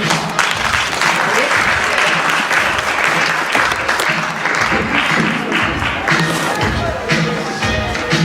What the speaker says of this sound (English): Thank you so very much, graduates. A round of applause, please.